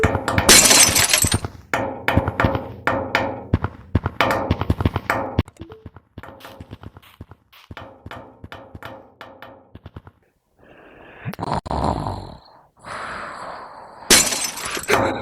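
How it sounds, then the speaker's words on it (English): Glass shattering in a house at night, several loud crashing bursts with scattered clinks and debris between them, then more crashes and tinkling toward the end. "I think a glass broke"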